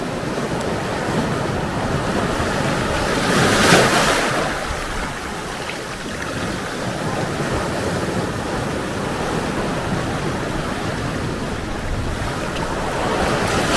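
Ocean waves wash around rocks on a North Wales beach, a steady, broad roar of surf with wind noise buffeting the microphone and a brief swell of louder crashing early on.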